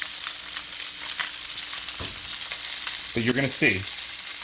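Salmon sears in a very hot pan with a steady, close sizzle and crackle throughout, and a voice speaks briefly near the end.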